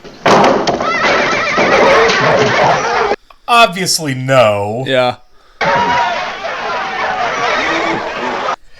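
An unbroken horse in the 1958 film Auntie Mame lets out a loud, wavering whinny between stretches of film audio, with people talking over the scenes before and after.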